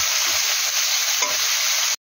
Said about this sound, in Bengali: এবার দিয়ে এটা আরেকটু নাড়াচাড়া করব।